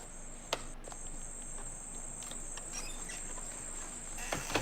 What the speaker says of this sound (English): There's so many insects.